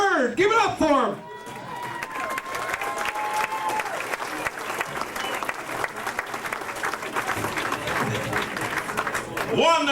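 Audience at the Walnut Creek Punch Line comedy club applauding for a full, steady stretch of dense clapping, with a host's voice briefly at the start and end.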